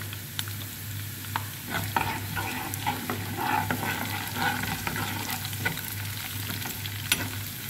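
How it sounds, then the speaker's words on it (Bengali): Cumin seeds frying in hot oil in a pan, sizzling with a steady crackle and occasional stirring scrapes, close and alone with no talk. "জিরা বাজারটা করে দিয়ে দিলাম।"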